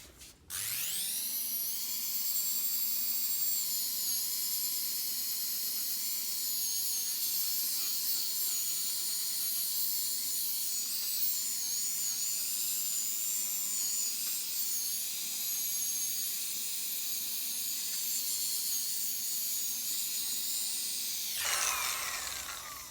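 A power drill polishing a Toyota Prius headlight whines at a steady, constant pitch for about twenty seconds, close and continuous, then spins down at the end.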